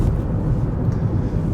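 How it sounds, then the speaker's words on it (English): Steady low cabin drone of a 2021 Dacia Sandero's engine while driving, a continuous muffled hum with road rumble, moderately loud and unbroken, with no talk. "Engine doesn't sound too thrashy either."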